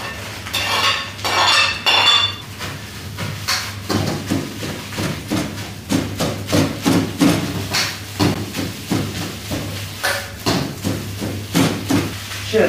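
Rice stir-fried in a hot oiled iron wok for Yangzhou fried rice, with the spatula scraping and tossing in steady, repeated strokes, close and loud, with no talking.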